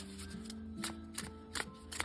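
Oracle cards being shuffled by hand, a series of quick crisp riffling snaps close to the listener over a faint steady background hum.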